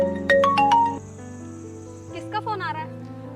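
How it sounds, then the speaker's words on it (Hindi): Mobile phone ringtone rings indoors in a rural Hindi household drama, a bright tonal chiming melody playing over a low hum, followed by a second warbling ring burst near the end. "किसका फोन आ रहा है?"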